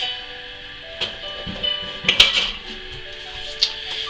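Plastic batter bowl and spatula set down in a kitchen sink after mixing cake batter, giving a few clattering knocks and a brief cluster of clinks around the middle, fairly close over quiet room noise.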